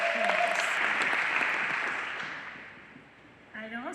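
Audience applause at a parents' event with the education secretary, a dense round of clapping that fades gradually over a few seconds before a voice starts speaking at the end.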